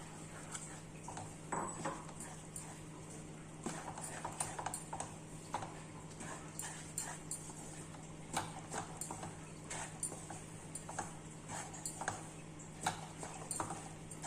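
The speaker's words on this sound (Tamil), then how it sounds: "இப்போ மாவு சேர்த்துக்கிட்டே கிளறிடலாம்" Repeated scraping and tapping of a utensil stirring thick flour dough into boiling water in a pot, irregular strokes close by over a low steady hum.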